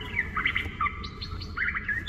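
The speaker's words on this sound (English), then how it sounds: "You love the birds?" Birds chirp and tweet in a song playing in a car during carpool karaoke, several quick high twittering calls over a low steady background hum, with no talking.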